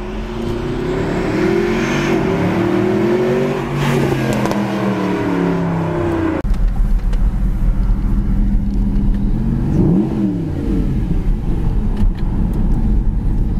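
Mercedes SLS AMG supercar with a 571-horsepower engine driving, its loud, steady engine roar with rising and falling revs running throughout, close and continuous with no talking.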